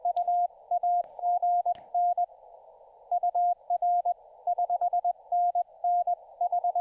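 Morse code on amateur radio from an Oklahoma station at about 14 words per minute, a clean single-tone sidetone keyed in dots and dashes, steady and alone over faint background hiss.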